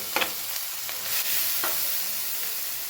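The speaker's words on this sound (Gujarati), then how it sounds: "આપણે એક પડી જેટલું તેલ લઈ લીધું, તેમાં ડુંગળી એડ કરી દઈએ" Chopped onion sizzles in a small measure of hot oil while pasta is being cooked, a steady broad hiss with a few brief stirring scrapes near the start.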